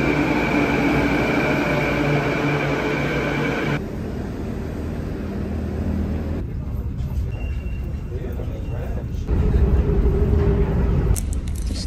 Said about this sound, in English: we're gonna catch the train to Tsawwassen and then take the ferry over.